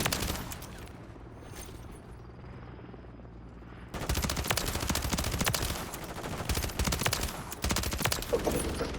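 Rapid bursts of Static HV SMG fire in Call of Duty MW3, crackling loud and dense with brief pauses, with the heaviest, most continuous shooting in the second half.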